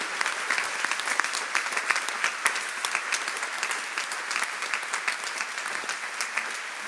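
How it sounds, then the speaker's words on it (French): Thunderous audience applause for volunteers on Radio Maria, a dense steady wash of many hands clapping throughout, moderately loud with no talk over it. "on peut vraiment faire un tonnerre d'applaudissements pour tous nos bénévoles"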